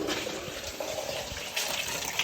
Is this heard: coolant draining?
yes